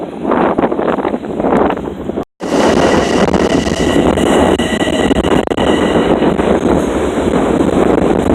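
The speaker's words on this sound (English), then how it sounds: "There's an Oyster Bay train coming through, so I'll just show you that." A Long Island Rail Road Oyster Bay branch train passing through Mineola station, a loud, continuous roar of wheels and rushing air close by, with gusty wind buffeting the microphone and a brief break partway through.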